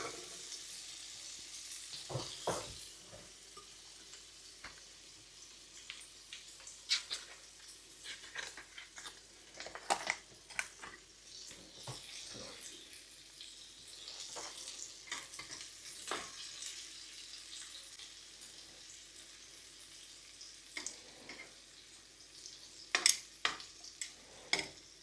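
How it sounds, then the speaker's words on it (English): Finely chopped banana shallot frying gently in butter over low heat alongside meatballs, with a soft steady sizzle and occasional clinks and stirring scrapes in the pan. No one talks. "I'm just going to cook that down for a few minutes with the meatballs."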